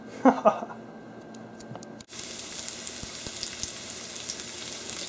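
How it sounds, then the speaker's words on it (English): Garlic fries in olive oil, starting with a faint clatter and brief thuds, then a sudden jump to a steady, close sizzle dotted with small pops. "here you can see that we have garlic. They're cooking in the olive oil."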